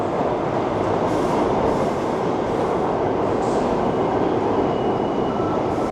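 A New York subway train rumbles along in a dense, continuous roar, loud and close from inside the car, with faint squeals and clatter riding over it and no voices.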